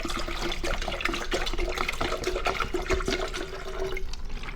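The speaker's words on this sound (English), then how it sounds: "So we'll put some water in." Water pours steadily into a WEEKETT smart kettle, a continuous close splashing rush that lasts several seconds and holds an even level throughout, with no talking.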